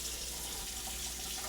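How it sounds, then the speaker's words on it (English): A sink faucet runs in a home, a steady, even hiss of flowing water with no pauses and no voices. "How long do you run the water for?"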